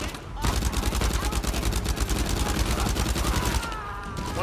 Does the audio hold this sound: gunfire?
yes